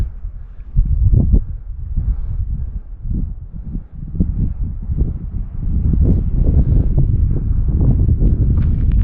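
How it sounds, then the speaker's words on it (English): Low, rumbling gusts of early-morning wind in Moab, Utah batter the microphone, thumping and roaring unevenly and growing stronger toward the end. "I know it's getting windy already."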